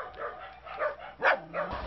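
Dogs at a home housing more than sixty of them give several short barks and yips, with a whimpering whine among them, heard fairly close and loud against a crowded background.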